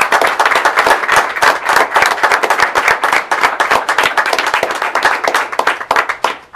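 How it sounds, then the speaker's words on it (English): Loud, close rhythmic clapping from families and attendees at a school board meeting honoring student athletes, a lively round of applause that carries on for several seconds with uneven claps. "let's give them a round of applause."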